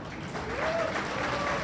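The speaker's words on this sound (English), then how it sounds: "others, just cheer for them" An audience at a business networking event applauds mentors in a short, steady burst of clapping from a hall crowd, fairly distant and without distinct cheering.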